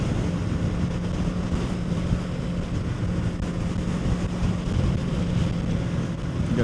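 Strong wind buffets the microphone while riding a Kawasaki Z650 motorcycle along a coastal road, a dense, constant roar with a low engine hum underneath and no speech.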